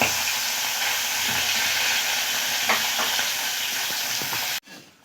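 Fish belly pieces and a fish head frying in hot oil, giving a steady, loud, close sizzle with occasional soft stirring clicks before it cuts off abruptly near the end.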